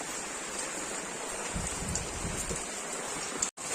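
Heavy rain pours steadily at an old bus stand, a dense continuous hiss with close drops pattering on surfaces, unbroken except for a brief dip near the end.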